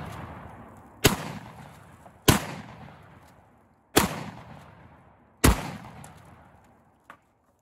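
Four sharp, loud gunshots from a Marlin 336cs lever-action rifle chambered in .35 Remington, spaced roughly a second apart, each cracking hard and decaying with a short echo, followed by a faint click.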